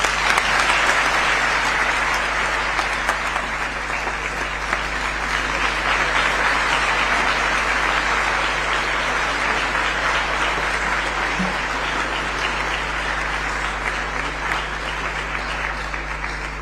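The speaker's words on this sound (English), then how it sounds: "Another round of applause for His Excellency and all the speakers." A large audience applauds steadily and loudly throughout at the opening of the World Health Summit Regional Meeting in Nairobi, with no speech over it.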